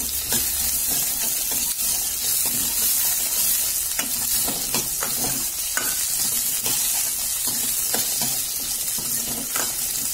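Seer fish (vanjiram) curry ingredients are sautéed in a pan on full flame. A continuous close sizzle is broken by repeated stirring scrapes and knocks, with no talking.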